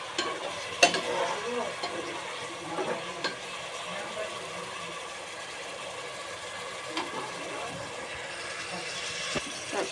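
Food and its oil poured into a hot pan for a home-cooked lunch, raising a steady broadband sizzle with a few sharp clinks and scrapes of stirring over roughly ten seconds.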